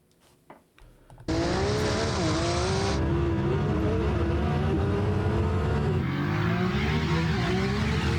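Two 1600-horsepower sports cars, an Audi R8 and a Nissan GT-R, in a drag race: a loud, sustained high-revving engine roar begins abruptly after a brief quiet start and holds steady throughout, with a bright whine in the opening seconds.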